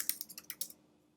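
Brisk burst of about eight keystrokes on a computer keyboard, close and clear, tapping in an uneven rhythm for under a second before going quiet.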